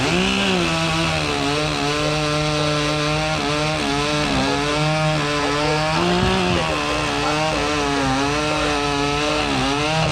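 A chainsaw roars at high revs, biting steadily through a log in one long continuous cut during a timed chainsaw cutting competition at a fair, loud and close with no voices.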